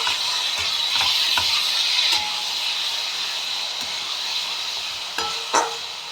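Masala spices with two red chillies sizzle and fry in a pan while cooking a fish curry, a steady close crackling hiss with occasional sharp scrapes and taps as the mixture is stirred.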